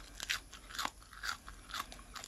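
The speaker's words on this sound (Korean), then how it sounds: "요거는 지난번에 카이피라보다는 아삭아삭 소리가 좀 더 잘 나는 것 같네요" Close, crisp crunching as a fresh raw Isatrix vegetable leaf is bitten and chewed, with repeated wet crunches at a steady chewing rhythm and no talking.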